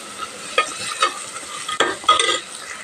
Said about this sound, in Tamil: பாருங்கள், வெங்காயம் வதங்கிடுச்சு